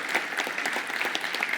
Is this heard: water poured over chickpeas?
no